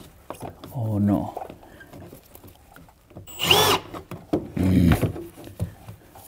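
A power drill runs in short bursts during work on a utility meter housing, with a whining spin up close between stretches of nearby conversation and handling clatter.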